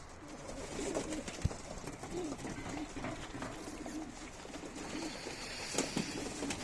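Pigeons coo softly in short repeated phrases during a tumbler pigeon flight, over a rooftop backdrop of faint rustling and ambient outdoor noise, with an occasional sharp tap.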